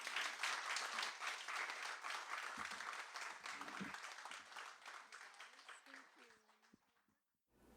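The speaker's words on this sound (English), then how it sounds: "can we have a round of applause for our translator?" An audience at a bookstore author reading applauds the translator, sustained clapping that slowly thins and fades, with a few voices mixed in near the end.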